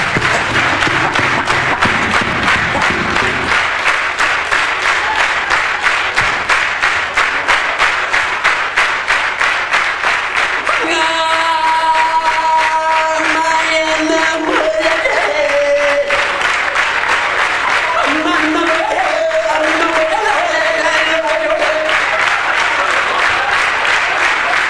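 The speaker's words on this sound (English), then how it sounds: "Come on, clap your hands, I'll do one last song." A stand-up comedy audience claps steadily in rhythm, then the clapping swells into broad, sustained applause from the crowd, loud and continuous throughout.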